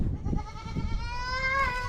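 Goats bleating loudly and close by, a sustained wavering cry that rises in pitch toward the end, over a rumbling background.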